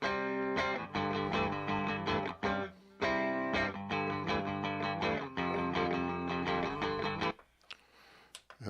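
A Telecaster electric guitar with light distortion, doubled, plays a chordal riff with rhythmic strums and short breaks, then rings out and stops near the end.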